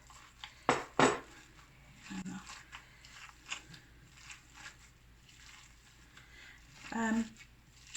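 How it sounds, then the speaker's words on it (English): Meat and potato patty mixture for Persian kotlet being mixed in a bowl, with sharp clinks and squelchy handling bursts near the start and again toward the end, beneath a soft background. "I'm gonna just mix that well"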